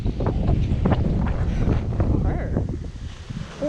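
A strong wind storm roars steadily and loudly against the microphone, with gusty buffeting and rustling throughout; voices are faintly present under the blowing.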